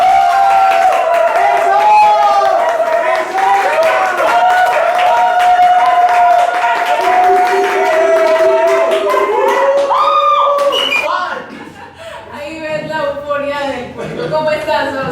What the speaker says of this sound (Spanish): recibamos con un fortísimo aplauso a Oscar Corredor